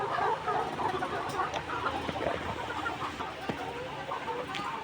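Hens on a 1,200-bird laying farm cluck and chatter continuously, a dense flock murmur with scattered sharper calls throughout, no talking over it.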